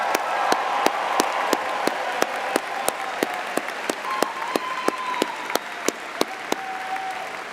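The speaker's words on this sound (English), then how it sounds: "Let's give them a big round of applause." An engineering commencement audience applauds the graduates' mothers; a fairly loud, continuous wash of clapping is punctuated by sharp, evenly spaced clicks, with faint tonal whistles running through it.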